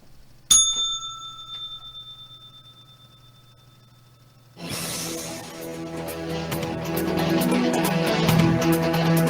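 A single bright bell strike rings out clearly near the start and decays slowly over a low hum, then dense music swells in and continues loudly to the end.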